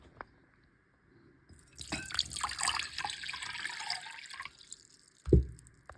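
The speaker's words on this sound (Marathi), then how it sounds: "आता मी पॉट घेते आणि त्याच्यात पाणी टाकून मिक्स करून दाखवते" Water is poured into a pot and mixed for pani puri water, giving a splashing, gushing pour of a few seconds that starts after a short quiet, followed by a sharp thump near the end.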